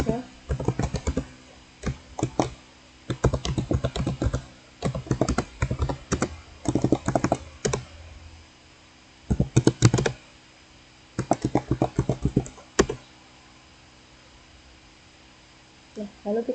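Rapid typing on a computer keyboard while entering commands on an Ubuntu server: bursts of close, crisp key clicks separated by short pauses, with a faint background hum.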